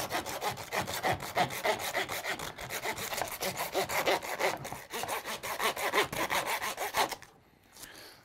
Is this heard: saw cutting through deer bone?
yes